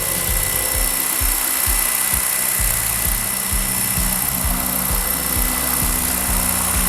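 An ALZRC Devil 420 RC helicopter hovers close by, its rotor making a steady high whine over a regular, rapid low thumping that stays even throughout.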